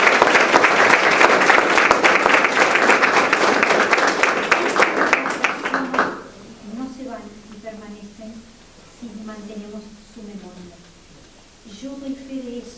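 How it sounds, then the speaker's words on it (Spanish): Loud audience applause at a community celebration of an adoption campaign relaunch and anniversary, dense clapping for about six seconds before it cuts off and a person begins speaking over the quieted room. "Fuerte el aplauso."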